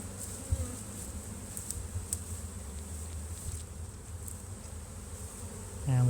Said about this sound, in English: I've shaken the rest of the bees off the tree